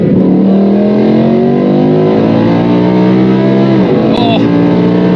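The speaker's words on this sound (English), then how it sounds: "it just revs out so nicely" A BMW M3 E46 with a V10 engine and DCT gearbox revs hard in third gear and climbs steadily in pitch, loud and close, then drops away briefly as it shifts near the end.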